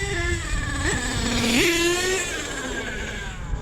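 A nitro HPI Savage XL RC truck with a Force .32 engine revs high and buzzy as the throttle opens, its pitch jumping twice and then holding a steady loud whine before easing off.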